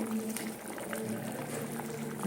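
Lemon fish curry simmering in a covered pan, giving a steady bubbling boil with soft gurgles, close and moderately quiet, with no talking.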